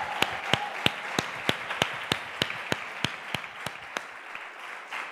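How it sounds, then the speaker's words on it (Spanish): A church congregation clapping in a slow, steady unison beat, about a dozen evenly spaced claps over a soft wash of scattered applause, with no talking. "que le pudiéramos dar un fuerte aplauso por este tiempo"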